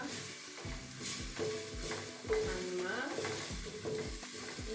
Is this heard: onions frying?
yes